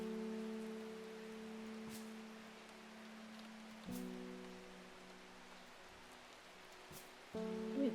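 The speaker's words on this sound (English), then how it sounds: "That rain is really lovely and soothing, actually." Soft, steady rain in the video game Strange Horticulture falls as a faint hiss behind sustained low musical tones, with no voices.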